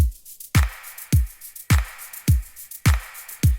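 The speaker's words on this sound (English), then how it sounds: "Then I added some shakers" Electronic percussion loop from a tropical pop house drop: a booming kick drum alternates with crisp, hissy shaker hits in a steady, repeating groove, with no voices.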